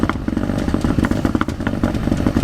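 A Kia Ceed GT engine misfiring on a cold start idles roughly up close, a steady low rumble broken by irregular thumps and uneven stumbles, with no voices.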